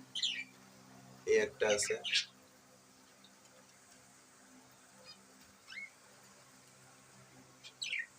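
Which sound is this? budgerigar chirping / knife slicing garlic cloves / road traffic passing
budgerigar chirping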